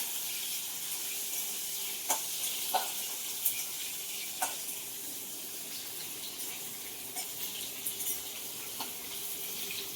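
Cut capsicum fries in hot oil, producing a soft, steady sizzle heard close up, broken by a few sharp clicks and spatters, with no talking.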